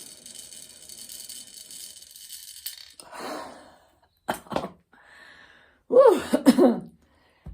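A few short coughs and a throat-clearing follow an exhale through an incentive spirometer. They come in two close, fairly loud bursts near the end, with quiet breathing before them.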